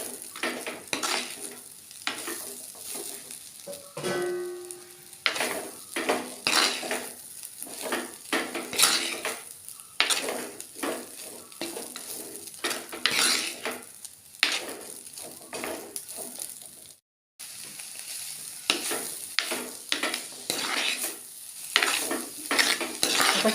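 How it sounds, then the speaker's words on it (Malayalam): A spoon stirs and scrapes tuna thoran in a pan, making repeated clattering and scraping strokes over a light sizzle. The strokes are irregular and close, with a brief gap partway through. "ഇട്ടിട്ട് നന്നായിട്ട് ഇളക്കി കൊടുക്കണം."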